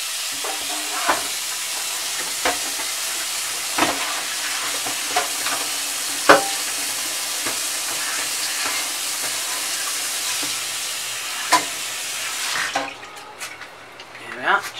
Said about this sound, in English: give the frying pan a swirl out, ready for the meat.